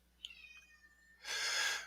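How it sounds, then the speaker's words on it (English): A single faint, thin kitten meow rises and trails off, followed by a brief burst of breathy noise close by. "You probably hear my new kitten in the background."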